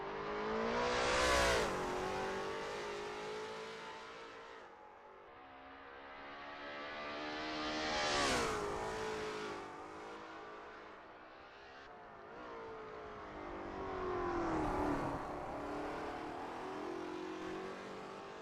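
Lola T70 MkII Spyder race cars lapping at Sebring, three separate loud passes rise and fade in turn, each engine note swelling near then sweeping away, with no talk.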